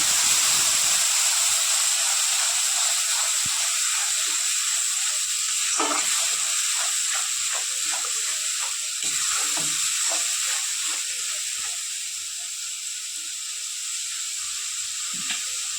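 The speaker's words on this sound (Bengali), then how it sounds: "ওই তেলে দিয়ে দেবো আমি পেঁয়াজ আদা রসুন আর টমেটোর পেস্ট। মশলাটা কষিয়ে নেব।" Onion, ginger, garlic and tomato paste sizzling in hot oil for a fish curry, a steady close hiss running throughout with occasional stirring clinks and scrapes.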